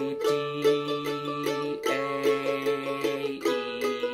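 Mandolin playing major-chord double stops, picked in a quick tremolo-like rhythm with two sustained notes ringing together, shifting to a new pair twice, close and clear with no talking.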